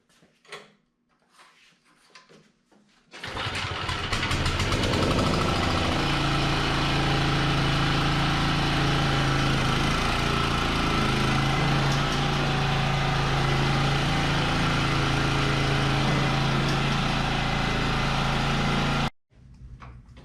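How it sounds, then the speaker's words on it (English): Toro TurfMaster lawn mower engine started after a few quiet seconds and running at a steady, loud, droning idle for about fifteen seconds before cutting off abruptly. "So now we'll fire it up and We'll see what the transmission thinks about that."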